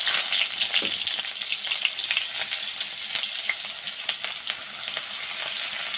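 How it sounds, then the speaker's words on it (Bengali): Onion fries in hot oil in a wok with a bright crackling sizzle, spattering pops and light stirring scrapes, steady and close, with no voices. "সব কিছু একসাথে ভালো করে একটু ভেজে নেব"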